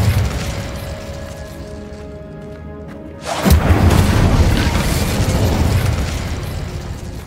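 A fiery Incendio spell cast in the Hogwarts Legacy video game: a quiet, humming lull gives way to a sudden loud whooshing burst that sustains as a roaring crackle of flame, with no talking.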